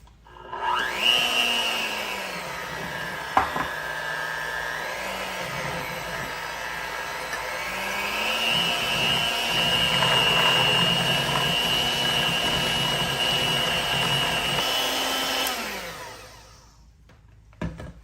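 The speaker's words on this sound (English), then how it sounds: "We're gonna take a mixer, and you could do this in a stand as well. I just only wanna use 1 bowl, and go ahead and blend everything up" An electric hand mixer whirs through keto flourless chocolate cake batter in a single bowl. It spins up, then runs in a steady high-pitched whine that shifts speed once or twice before winding down to a stop, close and loud.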